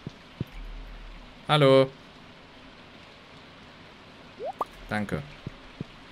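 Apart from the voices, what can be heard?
rain falling in the video game Stardew Valley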